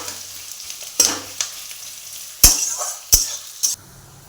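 Onions fry in a pan until browned, a soft steady sizzle broken by a few sharp stirring scrapes and clinks of a utensil against the pan.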